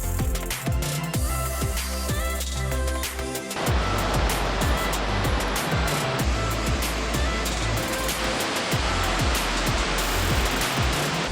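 Waterfall at the base of the falls in northeastern Australia, heard as a loud steady rushing roar that fills the scene and swells stronger partway through, with footstep-like knocks at the start and no talking.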